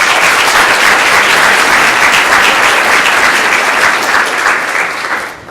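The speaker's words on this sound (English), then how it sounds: "Let's give them a round of applause." A large audience at a scholars and donors luncheon applauds loudly and continuously for several seconds, a dense wash of clapping that fades out at the end.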